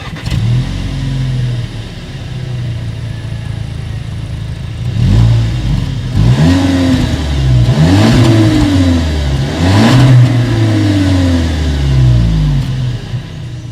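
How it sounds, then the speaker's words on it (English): A 2019 Volkswagen Arteon idles with a deep exhaust rumble, then is revved several times in loud, rising bursts that settle back to idle. "As always, here is that exhaust clip."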